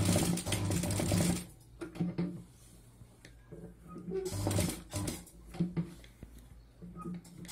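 A sewing machine stitches fabric for a handbag made from scrap cloth, with two loud bursts of rapid whirring and clatter separated by a quieter gap with softer mechanical sounds.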